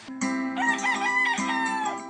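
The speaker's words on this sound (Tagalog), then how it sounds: "pag-call ng malakas, katulad ng tilaok ng malakas" A loud, close rooster crow with a long drawn-out call, heard clearly on its own.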